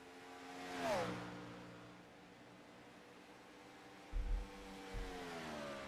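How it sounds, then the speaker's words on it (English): A race car on pit road during a simulated racing series at Las Vegas passes by faintly, its engine note rising and then dropping in pitch as it goes, followed by quieter engine hum and a couple of brief low thumps. "we hear the car from the 38 crew"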